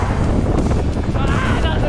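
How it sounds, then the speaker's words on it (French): Strong, violent wind buffets the microphone in a continuous loud roar during a trip in San Francisco, with a voice faintly audible underneath. "on en parle du vent qui est méga violent"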